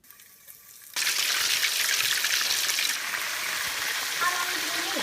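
Breaded brie cheese balls drop into hot oil for deep frying, bursting into a loud, steady sizzle that stays strong and continuous after a quieter start.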